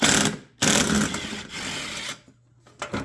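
A ratchet fitted with a 10 mm socket and wobble extension works a bolt on a Craftsman Platinum mower, giving loud, close rasping runs in three or four bursts separated by short pauses.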